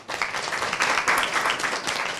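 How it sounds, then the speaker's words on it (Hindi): An audience at a school gathering applauds with steady, moderately loud clapping that swells and fades briefly, with no voices on top. "कर दो क्लैपिंग इसके लिए, तो कर दो क्लैपिंग।"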